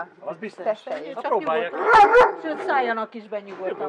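A kuvasz guard dog barks in a few short bursts near the middle, partly masked by steady conversation between people close by.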